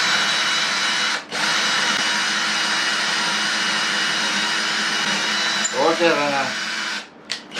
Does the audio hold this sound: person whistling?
no